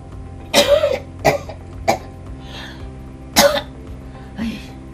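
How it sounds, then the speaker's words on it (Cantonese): A person with a persistent cough that medicine has not relieved lets out a series of harsh coughs, about five bursts spaced unevenly over a few seconds, close and fairly loud, with softer throat-clearing sounds in between. "咳到我食極藥都唔好嘅"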